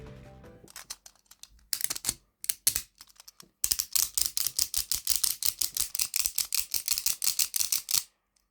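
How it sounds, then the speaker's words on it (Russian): Rapid sharp mechanical clicks from the driver mechanism of a Cho-Z Valkyrie B-127 spinning top, first scattered, then a fast even ratchet-like run of crisp ticks that stops abruptly. "щелчки этого драйвера стали намного сильнее"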